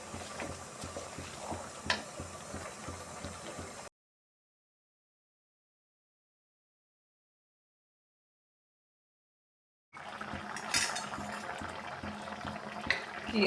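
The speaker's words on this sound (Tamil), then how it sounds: "கீரையை எடுத்து இதில் போட்டு மறுபடியும் ஒரு கொதி வரணும்" Spinach kootu bubbles in a pot, a quiet, steady simmering and gurgling heard for a few seconds, then complete silence for about six seconds before the soft boiling returns, with no voices.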